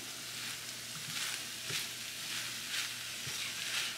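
Seasoned beef filling with black pepper is stirred in a shallow pan on the stove, giving a steady sizzle with repeated soft scraping swishes at a close, moderate level.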